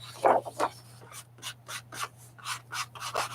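An inking tool rubs across paper at a crafting table in short, scratchy strokes, about a dozen bursts in quick uneven rhythm, close and fairly quiet with a steady low hum underneath.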